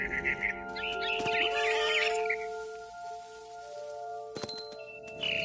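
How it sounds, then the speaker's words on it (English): A barn swallow chirps outside a window near her nest in the video game What Remains of Edith Finch: a few quick, bright chirps early on, set over steady, sustained tonal game ambience. "Then I heard chirping outside my window. It was a barn swallow going back to her nest."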